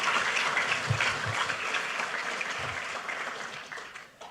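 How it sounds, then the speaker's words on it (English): Audience applause at a National Archives event marking the 250th anniversary of the Declaration of Independence, an even patter of many hands at moderate volume that tapers off toward the end. "How about another round of applause for"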